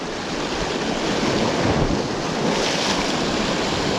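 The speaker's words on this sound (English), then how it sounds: "There's a nice bit of chop here as well, with a bit of swell coming in." Steady rush of choppy sea waves and swell, with wind buffeting the microphone throughout.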